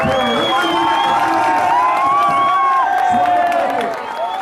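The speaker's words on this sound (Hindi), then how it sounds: "तालियों की गड़गड़ाहट नहीं रुकनी चाहिए।" A crowd at a Women's Day rally in Sujangarh cheers and whoops with some clapping, a loud sustained din of shouting voices and high calls, with voices talking over it.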